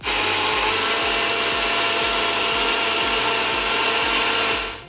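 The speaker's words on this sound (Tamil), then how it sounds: "தேங்காய் பால் நல்லா அரைச்சாச்சு ஃபைன் பேஸ்ட்டாக" A mixer grinder runs steadily at close range, grinding coconut into a fine paste for coconut milk, a loud continuous whir with a fast repeating rhythmic churn underneath, cutting off at the end.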